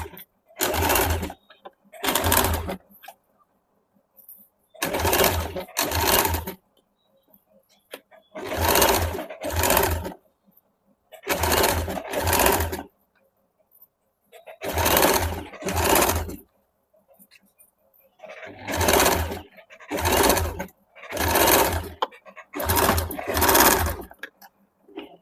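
A sewing machine stitches a half-inch strip onto a suit collar in short repeated bursts, each run whirring for a second or so before stopping, with quiet gaps between about a dozen separate stitching runs.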